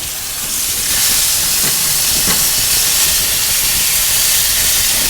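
A smash burger patty sizzles on a hot griddle after being flipped, a steady loud hissing fry that runs continuously with a couple of faint scraping ticks near the start.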